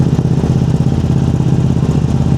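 Loud, close exhaust of a Ducati Streetfighter V2 motorcycle with a long muffler, a deep, steady, throbbing twin-cylinder idle with a rapid even pulse throughout.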